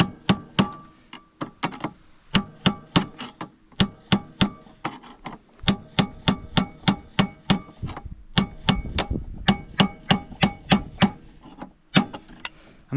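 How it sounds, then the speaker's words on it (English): A hammer strikes metal again and again, working both sides evenly while Fox Racing Float 3 shocks are fitted on a Summit. The blows are sharp, close and loud, in a steady but uneven rhythm, with no talk. "Keep on hammering both sides evenly."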